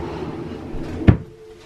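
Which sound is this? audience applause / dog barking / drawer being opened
drawer being opened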